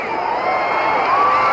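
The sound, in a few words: boxing crowd cheering a punch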